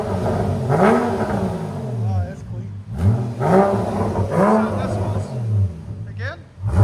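A 2014 Porsche Boxster S with a 3.4L engine and a Netami turbo resonator revs up again and again. The surges rise and fall in a repeating pattern, loud and close, with people talking over them.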